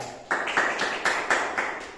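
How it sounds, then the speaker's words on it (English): A small group of students in a classroom claps for a classmate, a short, sparse round of separate claps that rises and fades within a couple of seconds. "Give applause to Damai"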